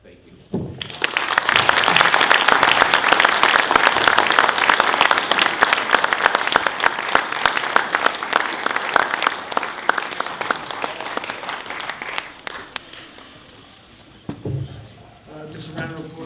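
Sustained audience applause fills a hall at an award ceremony, dense clapping lasting about twelve seconds before thinning out, with a few stray claps and voices at the end.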